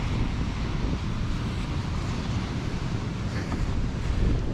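Outdoors by a foamy backyard river, water rushes in a continuous broadband wash, loud and close, blurred by gusty wind on the microphone.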